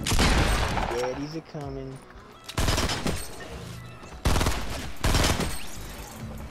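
Rapid bursts of gunfire from the video game Fortnite crackle in loud, repeated volleys, with players talking over the shooting throughout.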